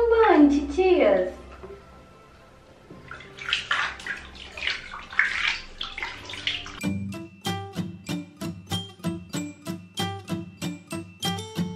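Tap water pours into a baby's bathtub, a close running gush with rhythmic splashing and clinks later on, while someone talks at the start.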